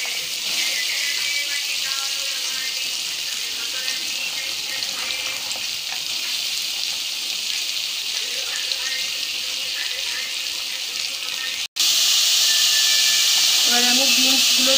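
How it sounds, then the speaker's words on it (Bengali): Carrots fry in a pan for fried rice, sending up a loud, dense, unbroken sizzle with steamy hiss close by. A brief cut comes near the end before the frying resumes. "ফ্রাইড রাইসের জন্য আমি গাজর ভেজে নেব"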